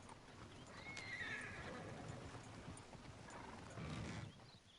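Horses in the Red Dead Redemption 2 video game, a loud whinny followed by hooves clip-clopping and shuffling nearby, with further neighing and restless stamping throughout.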